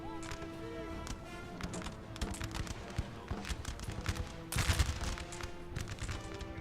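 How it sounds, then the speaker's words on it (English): Musket volleys in the video game Napoleon: Total War, heard as a ragged crackle of distant shots that builds into a louder burst near the end, over continuous battlefield noise. "line up behind Bulgarian warrior units and start shooting"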